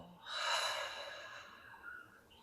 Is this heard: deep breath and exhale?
yes